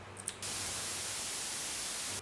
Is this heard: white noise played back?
yes